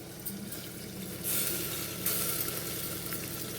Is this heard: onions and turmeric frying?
yes